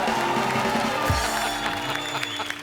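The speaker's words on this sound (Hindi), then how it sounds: "जैकी दादा के लिए जोरदार तालियां" Studio audience applause and cheering on Kapil's comedy show as actor Jackie Shroff walks on, a dense steady wash of clapping with a low thump partway through.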